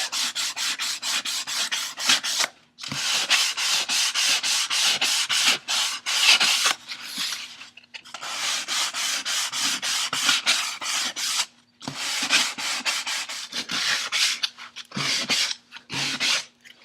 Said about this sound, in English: So now I'm using 150 grit.